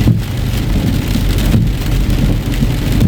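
Steady, heavy rain pours down continuously at night during a storm, dense and close, with a constant hiss of drops and no voices.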